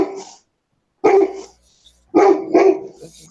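A large dog barks close by in three loud bursts, a single bark followed by a quick double bark, with silence between.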